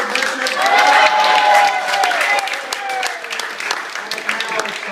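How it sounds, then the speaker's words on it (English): Applause fills a room at a 40th birthday party, a dense sustained patter with cheering and voices mixed in, loudest early and gradually thinning toward the end. "give yourselves a round of applause for being before"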